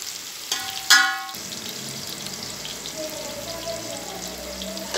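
Onions frying in a pan with cumin and bay leaves for chicken pulao, a steady close sizzle with a couple of sharp clinks early on and faint kitchen background.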